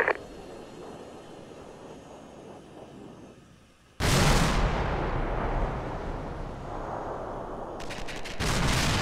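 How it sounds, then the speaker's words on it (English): A loud, sudden blast from a plane exploding in a flight video game erupts and rumbles on for several seconds, followed by a quick burst of sharp crackling impacts. "That was a big explosion."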